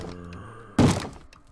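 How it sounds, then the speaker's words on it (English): One heavy thud as a Minecraft zombie bangs on a wooden door, loud and close after a quiet stretch, fading quickly. "I think there's a zombie up there banging on my door."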